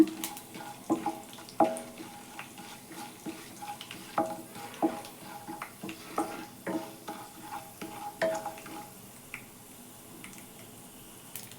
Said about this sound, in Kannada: ಕಡಲೆಬೇಳೆ ಸೇರಿಸ್ಕೊತಿದ್ದೀನಿ ಉದ್ದಿನಬೇಳೆ ಸ್ವಲ್ಪ ಜೀರಿಗೆ ಇದನ್ನೀಗ ಇಷ್ಟನ್ನು ಚೆನ್ನಾಗಿ ಫ್ರೈ ಮಾಡ್ಕೊಳ್ಳೋಣ